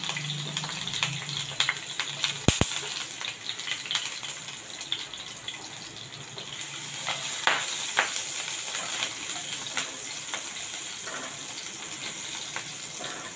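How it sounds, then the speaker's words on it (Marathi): Finely chopped garlic frying in hot oil in a pan for creamy white sauce pasta, a steady close sizzle with scattered pops and crackles, one sharp clack early on, and no talking. "लसूण आपली चांगली फ्राय झालेली आहे।"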